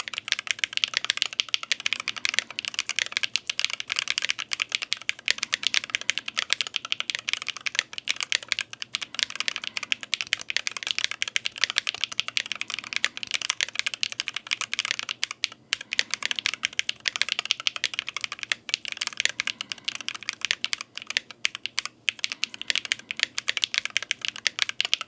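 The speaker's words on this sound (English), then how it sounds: "I never did a sound test for the keyboard in carbon case" Steady, rapid clacking of a mechanical keyboard in a carbon case with transparent keycaps being typed on, close and continuous throughout.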